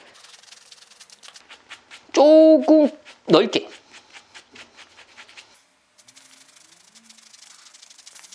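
Quick, rhythmic back-and-forth rasping of sandpaper scrubbing a bicycle inner tube around a puncture before patching, close up, briefly interrupted by a short spoken phrase before the strokes resume.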